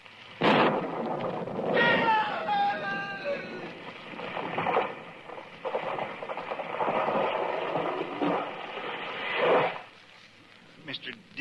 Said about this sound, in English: It was lightning. It struck the tree.